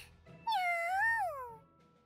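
A cat in the video game Super Neptunia RPG gives a single drawn-out, rising-then-falling meow, clear and close in an otherwise quiet moment, with no talking.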